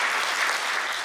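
Enthusiastic audience applause closing a screening of a Papuan film, dense steady clapping filling the room at close range with no speech over it.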